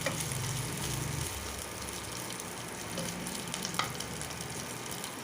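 Curry leaves and chopped green chili frying in oil in a pan give a continuous, fairly soft crackling sizzle that holds evenly throughout, with a faint stir or two.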